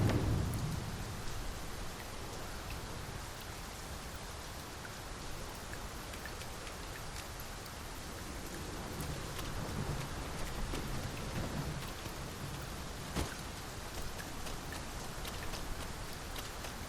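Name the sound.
rain falling in the video game Dragon's Dogma 2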